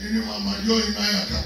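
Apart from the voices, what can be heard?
None of the usual background noises is heard.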